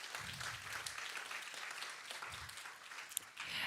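Audience applause fills a symposium hall, a steady dense wash of many hands clapping at moderate level throughout, with no talking over it.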